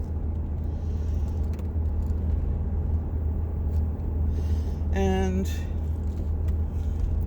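Steady low engine and road rumble fills the interior of a car packed full of belongings while it is driven, with a brief tonal squeal partway through and a person talking over the drone.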